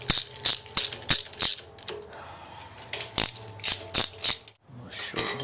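A ratchet wrench snugs down bolts during an engine build, giving quick clicking bursts of several clicks in a row and short pauses between strokes, close by.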